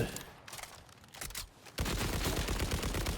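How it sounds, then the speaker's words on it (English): Order assault rifle from Borderlands 4 firing in a rapid, sustained burst of dense shots after a quieter stretch of scattered game sounds, loud and close, with no talking. "this thing just fires really fast and kills quite quickly"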